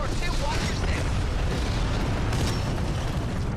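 Heavy in-game explosions rumble and burst without pause during Titanfall 2 combat, loud and low, with a voice talking over the blasts.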